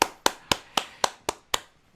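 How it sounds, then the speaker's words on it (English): Seven sharp, evenly spaced claps from a small group at a guitar workshop, about a quarter second apart, each snapping loud and then decaying, with a brief quiet tail after the last one. "Let's clap it up for that."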